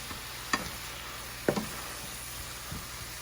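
Ginger slices cooking in a pan with sauce give a quiet, steady sizzle, broken by a few sharp utensil clicks and taps.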